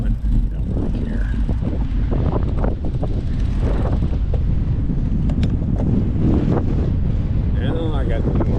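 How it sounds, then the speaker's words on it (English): North wind blowing hard outdoors in autumn, a loud, constant rushing roar buffeting the microphone with gusty rumble, with faint voices briefly audible beneath it. "And I got the north wind."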